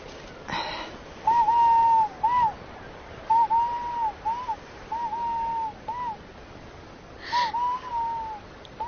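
A bird gives a series of whistled calls, each a thin, steady tone with a slight upward or downward bend at the end. They come in repeated short bursts over a hushed background, at moderate distance.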